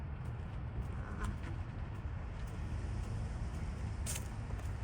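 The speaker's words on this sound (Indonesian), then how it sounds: "Ini lagi di parkiran." Steady broadband rumble of traffic in a car park, low and continuous with a brief brighter hiss near the end, no voices.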